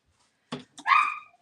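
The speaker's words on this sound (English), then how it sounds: "Sorry for the dogs." Dogs bark indoors from a little distance, two short yaps followed by a longer, higher whining bark, then quiet.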